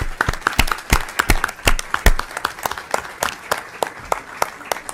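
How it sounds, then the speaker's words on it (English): A room full of people gives a warm round of applause for foster youth and families at a legislative hearing, dense steady clapping from many hands, close and loud, lasting the whole stretch. "Can we just give them a warm round of applause?"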